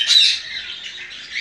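Small birds at a feeding spot where a keeper sets out seed mix for blackbirds and native finches, chirping steadily in high thin calls close by, with no talk.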